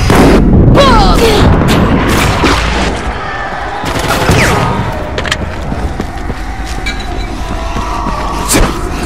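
Video game battle gunfire, a dense stream of shots and booms over a continuous loud din, with shouted voices mixed in.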